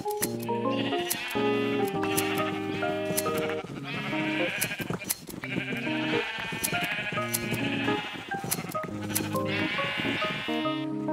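Sheep bleat continuously, overlapping loud calls from a flock of red sheep in Minecraft, forming a dense near chorus that lasts throughout.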